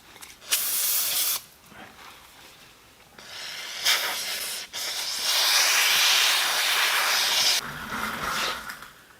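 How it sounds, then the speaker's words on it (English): Non-chlorinated brake cleaner sprays from an aerosol can onto a cast iron B&S #13 tool grinder part in several loud hissing bursts, each one to three seconds long, with short pauses between them. "This is a non-chlorinated brake cleaner."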